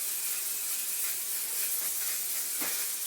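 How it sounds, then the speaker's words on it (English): A steady, close hiss of varnish sprayed from a spray can onto a painting runs through the clip with no talk, slightly rising and falling in intensity. "Normally spray it flat and leave it trickling, but put an even coat on"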